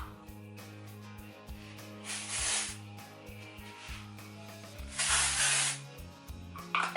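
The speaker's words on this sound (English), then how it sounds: "First, I'm going to spray it with some Tresemme texture finishing spray." Two bursts of Tresemme texture finishing spray misted onto hair, each hiss lasting about a second, close and fairly loud over a steady background of music.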